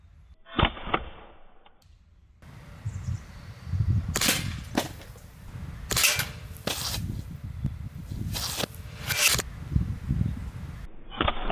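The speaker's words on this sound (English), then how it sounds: "this may end up being the longest distance shooting BB gun out there as well" An ARK17 Glock 17 replica, a Strike Industries .177 CO2 blowback steel BB pistol, fires a series of loud sharp cracks with gas hiss, shots spaced irregularly and several in quick pairs over faint background noise.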